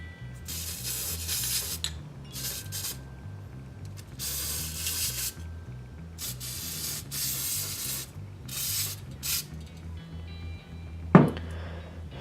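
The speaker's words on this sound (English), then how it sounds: "got to trim off the extra from the pick guard" Excess material trimmed off a guitar pickguard: repeated rasping, scraping strokes in bursts over steady background music, with a sharp click near the end.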